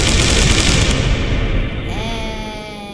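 Bombs detonating in the planet-destruction game Solar Smash, a dense, loud roar of blasts for about two seconds that thins into a rumbling tail with a rising tonal whine.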